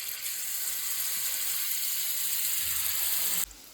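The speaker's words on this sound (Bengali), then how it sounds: "এবার আমি এইগুলো ভেজে নেব খুব" Raw banana pieces frying in oil give a steady, faint hiss and crackle that holds level, then drops abruptly near the end, with no one talking.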